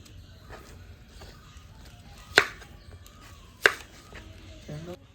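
A knife chops elephant foot yam flower into pieces on a board, with two sharp, loud chops standing out against quieter background sounds and a few softer taps between them.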